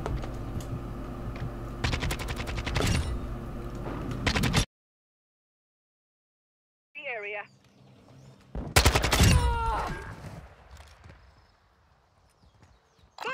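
Gunfire in the video game Call of Duty Modern Warfare 2 in Search and Destroy: rapid bursts of automatic shots, a sudden silent gap, then another loud burst with faint game sounds afterward.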